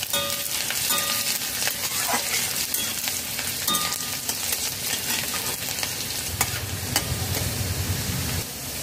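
Chopped garlic and ginger with whole cumin frying in hot mustard oil, a loud, steady crackling sizzle that runs throughout, with scraping stirs of a spatula in the pan now and then.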